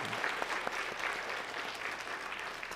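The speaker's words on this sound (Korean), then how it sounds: "우리 한번 큰 격려로 격려의 박수를 보내주시기 부탁드립니다." A church congregation at a Sunday worship service claps in warm, sustained applause, a dense patter of hands filling the hall for a few seconds before tapering slightly.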